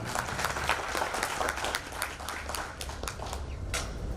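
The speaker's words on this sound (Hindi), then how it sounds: "तो एक बार अनिल जी के लिए जोरदार तालियां हो जाए" Audience at a business partner meet clapping together, a moderately loud wash of many hands with a few sharper individual claps standing out, continuous throughout.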